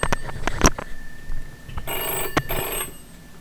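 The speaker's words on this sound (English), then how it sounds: "my phone is ringing" A phone rings in a shed with a bright, sustained ring in two bursts, mixed with knocks and handling clatter, and no talk.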